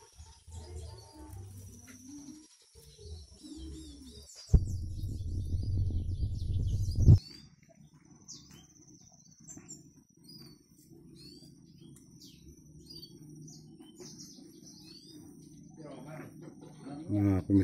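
Caged Mozambique canaries in a village at the foot of a mountain give scattered thin chirps and tweets, with a loud low rumble burst partway through and quiet background sounds around them.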